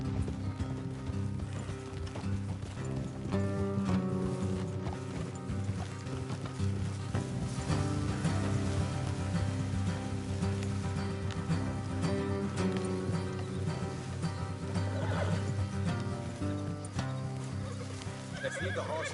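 Horses whinny and hooves clip-clop in Red Dead Redemption 2 over a dense, steady layer of music, with no voices.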